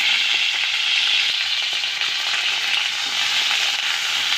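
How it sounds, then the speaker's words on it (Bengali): Cauliflower and other winter vegetables frying in a wok, a loud continuous hiss and sizzle close up, even throughout, with no voices. "বাকি সবজিগুলো হালকা করে ভেজে নেব।"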